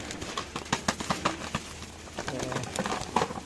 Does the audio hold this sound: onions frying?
no